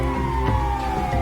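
An ambulance siren wails in the video game GTA 5, a loud, steady electronic tone that carries through the whole moment.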